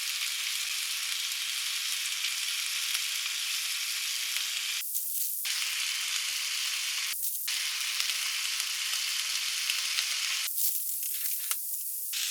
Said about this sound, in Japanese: 鮭をひっくり返して蒸し焼きにします